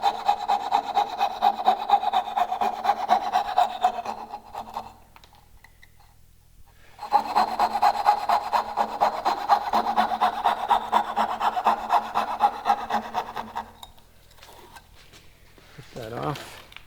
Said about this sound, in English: Saw as close to that line as possible.